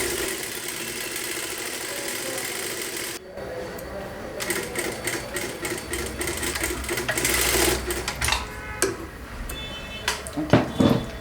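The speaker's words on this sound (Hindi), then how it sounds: "ये एक स्टिच है, इसी के ऊपर हमें एक और स्टिच चलानी है।" A sewing machine runs a second line of stitching over the first on a four-dart blouse with a belt, whirring in rapid bursts with a brief pause and clattering needle strokes, close and steady.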